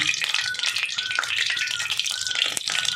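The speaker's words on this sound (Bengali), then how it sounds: "সবগুলো ভেজে নেবো" Capsicum kabiraji fries in oil with a bright, continuous sizzle and crackling spatter, close and steady for a few seconds.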